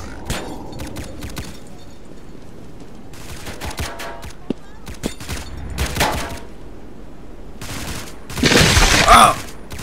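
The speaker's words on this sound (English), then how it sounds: "It's a shootout." Gunfire rattles through a shootout in the Roblox game Evade: scattered single shots and short bursts spaced across the scene, building to a loud, dense volley near the end.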